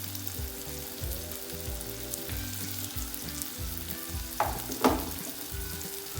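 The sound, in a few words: spices frying in pan, turmeric, chili powder, salt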